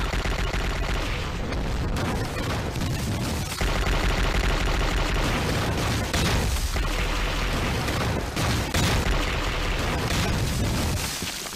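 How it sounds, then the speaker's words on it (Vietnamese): Artillery cannon fire in a war drama booms and rumbles in a dense, continuous barrage, with sharp blasts and rolling echoes piling over one another throughout, with no speech. "Bắn đại bác."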